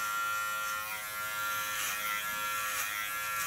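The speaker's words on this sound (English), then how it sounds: "With my small clipper of Kiona." Small Kiona electric hair clipper trimming a short fringe during a punk make-over, a steady close high-pitched buzz running unbroken throughout, with no voices.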